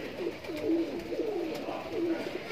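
Kaldume pigeons of the Sarangpuri cut coo at a loft in a soft, steady chorus of rolling, overlapping coos, close and moderately loud with no talk.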